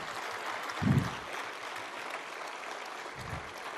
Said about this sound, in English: Can we also clap for the wonderful teachers here?